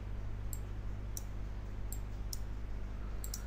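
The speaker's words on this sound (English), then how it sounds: "Now click on OK." Computer mouse clicks while working in Photoshop, six or so short, sharp, close clicks at irregular intervals over a constant low hum, with no talk.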